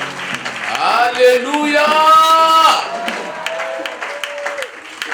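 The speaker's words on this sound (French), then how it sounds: "Acclamons encore pour lui." A crowd at a night of prayer applauds and cheers, with loud clapping and joyful shouted voices rising in the first three seconds, then easing into softer, continuing applause.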